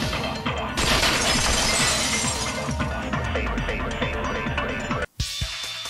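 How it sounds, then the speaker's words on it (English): A vase shatters in the Danganronpa 2 video game, a dense, loud crash of breaking ceramic with scattering fragments that rings on for about five seconds, then cuts to near silence. "If it wasn't the window, then what broke to make that sound? A vase."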